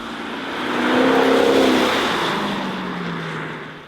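A 2021 Lexus LC 500 convertible with its 5.0-litre V8 accelerates. The engine note swells steadily to a loud peak, then eases off and fades slightly, with no voices.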